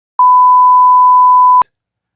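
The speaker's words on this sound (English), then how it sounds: "Wait, who's beeping me?" A single loud, pure electronic beep holds steady for about a second and a half, then cuts off sharply into silence.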